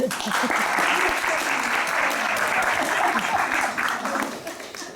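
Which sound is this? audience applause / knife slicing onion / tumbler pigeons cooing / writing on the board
audience applause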